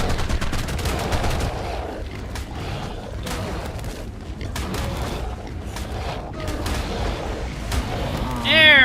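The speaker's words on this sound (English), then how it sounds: "I was actually going to use the gun and see if it would work on the mount." Gunfire from a weapon in the video game ARK Fjordur, a run of loud, sharp shots repeating in quick irregular succession, with a voice breaking in briefly at the end.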